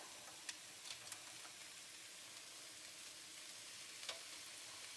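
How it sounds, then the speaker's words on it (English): Carrots and celery stir frying in a pan make a soft, steady hiss of sizzling at low volume, broken by a few faint ticks and clicks. "I'm actually stir frying all of the vegetables"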